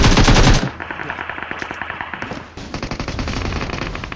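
Rapid automatic gunfire in a battle-royale style video game, a loud burst at the start followed by steady repeated shots and another sustained volley, with faint voice chat underneath.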